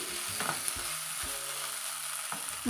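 Ivy gourd fries in a pan with a steady, gentle sizzle, broken by a few soft knocks of stirring.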